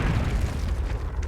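A Confringo fire spell in Hogwarts Legacy blasts out as a single deep, rumbling explosion, loud and close, with its boom fading over little more than a second.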